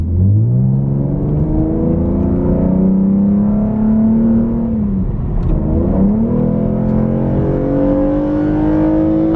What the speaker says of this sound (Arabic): عمر شلون صوت السياره